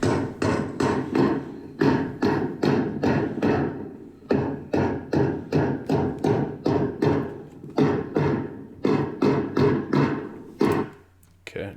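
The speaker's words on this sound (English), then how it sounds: "I take the hammer to it" Rapid, repeated hammer blows on sheet metal parapet coping being bent over during installation, ringing metallic strikes in quick bursts with brief pauses, loud and close.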